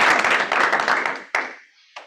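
People at a stakeholder team meeting applaud, a close burst of brisk clapping that stops after about a second, followed by a couple of isolated late claps.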